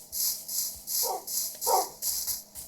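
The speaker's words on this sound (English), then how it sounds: "this one's a full-grown wolf" A full-grown wolf in a video game barks in a steady run of about six evenly spaced calls, loud and close, with no talking over it.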